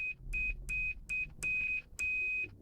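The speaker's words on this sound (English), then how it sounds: "It beeps." A continuity tester beeps as it checks a row on a capacitance decade box, giving a series of sharp, steady electronic tones of uneven length with short gaps between them over a faint low hum.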